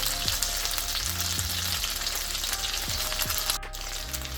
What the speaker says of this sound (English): you want to let these cook until about like that, just so it can form a crust